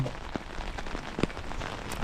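Steady rain pattering on a hard surface, with a few louder drops standing out against the continuous hiss.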